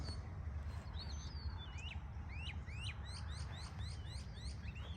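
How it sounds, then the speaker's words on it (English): Several birds singing on a spring morning in a permaculture garden, with repeated chirps and whistled phrases coming steadily at moderate distance over a constant low outdoor rumble. "The birds are singing this morning."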